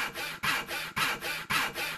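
Repeated rasping file strokes on a prison cell door in the Henry Stickmin game, four steady back-and-forth scrapes about half a second apart, close and fairly loud, with no talking.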